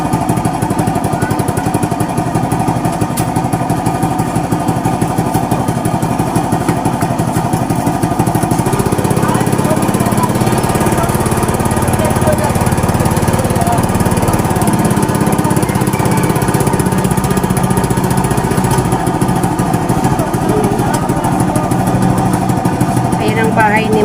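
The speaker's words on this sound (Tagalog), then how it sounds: "Parang madaluyong ang motor ngayon." Motorcycle engine running, a loud close and steady drone that continues unbroken for over twenty seconds with no pauses.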